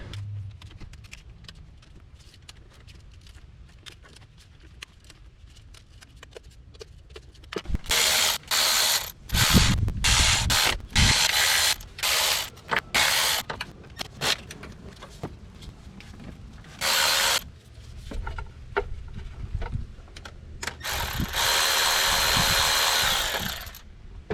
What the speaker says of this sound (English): I'm going to remove all these bolts to remove the valley plate